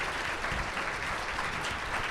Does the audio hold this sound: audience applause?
yes